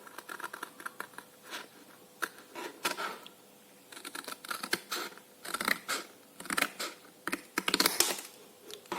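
Scissors cut paper for a homemade pencil holder, producing irregular quiet snips and crisp rustles close by, scattered throughout.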